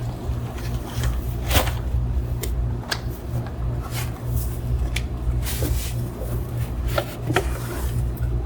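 Potting soil and playground play sand being mixed by hand, heard as a steady gritty rustle with scattered knocks and scrapes, close up over a low rumbling background.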